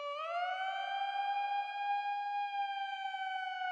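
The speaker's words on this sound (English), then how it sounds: "The siren sound?" A siren sound effect in a mix of Underoath's "On My Teeth" rises smoothly into a sustained, wavering wail with bright harmonics, held loud and steady with no other sounds.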